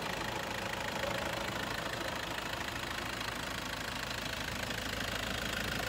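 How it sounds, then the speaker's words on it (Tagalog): Toyota Innova V diesel engine idling with a steady, faint mechanical knock and hum under the open hood. "Engine."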